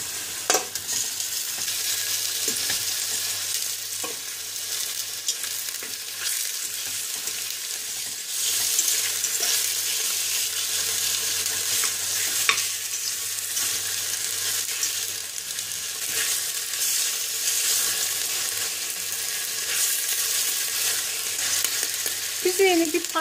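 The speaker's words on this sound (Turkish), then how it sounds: "600 gram harç etlerimizi atıp birkaç dakika kızartıyoruz" Diced meat sizzles and crackles in hot oil in a pressure cooker, a continuous frying hiss with occasional stirring scrapes and pops, close and steady.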